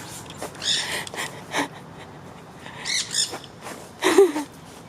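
A bird calls in several short, rough bursts spread across a few seconds, fairly close and loud against a quiet background with no one talking.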